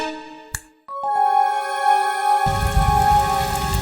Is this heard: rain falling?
yes